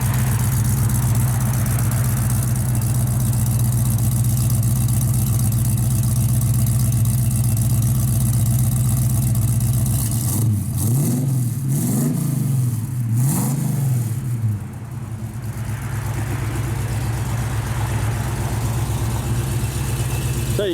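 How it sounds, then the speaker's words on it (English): A 1966 Ford Mustang 302 V8 with a 3-inch exhaust idles with a steady low rumble, then revs up sharply three times in quick succession before settling back to a throaty idle, close by. "Kind of surprised he did a 3-inch exhaust on it, but it sounds real good"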